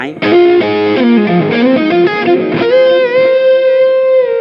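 Electric guitar played through the overdrive effect of a Mooer Prime P2, loud and close, a quick run of sustained distorted notes ending on a long ringing held chord, played alone.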